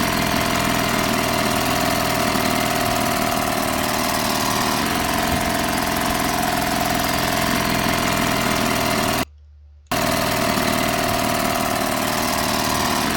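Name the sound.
boat motor sounding like a chainsaw, video game Martha Is Dead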